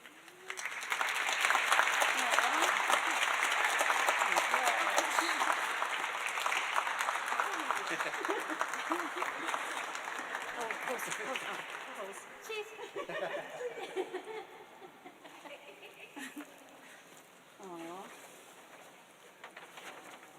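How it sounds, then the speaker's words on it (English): Audience applause at a conference closing keynote swells quickly, holds steady, then thins out, with scattered chuckles and voices talking as it dies away. "can we just get another round of applause for Chris?"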